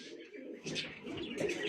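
Pigeons cooing close by, soft low throaty calls repeating over a short stretch.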